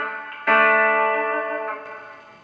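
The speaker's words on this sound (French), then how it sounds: "Et là par exemple je vais avoir une reverb" Electric guitar through a TC Electronic pedal on a reverb preset: one struck chord rings out bright and sustained, decaying slowly with a smooth reverberant tail, played alone.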